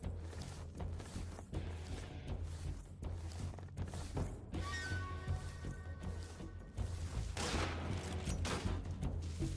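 Enemy gunfire in Metal Gear Solid 3, repeated bursts of shots and impacts in a jungle fight, fairly quiet and spread across the scene with a steady low hum beneath and no talk.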